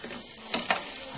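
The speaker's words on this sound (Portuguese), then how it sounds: "Refogo o alho bem." Garlic frying in a pan for seasoned ground beef, a soft steady sizzle with a couple of faint stirring scrapes, quiet and brief.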